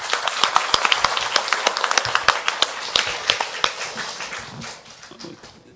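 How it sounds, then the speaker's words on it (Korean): A church congregation claps in a lively burst of many hands, dense and fairly close, thinning and fading toward the end. "우리 하나님께 영광을 박수 올리겠습니다."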